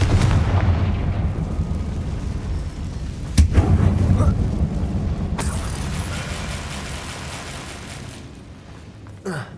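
Confringo fire spell in the Hogwarts Legacy video game, fired inside an abandoned mine: a rumbling fiery blast with sharp booming bursts, loud and close, then fading into a low roar, with no talking.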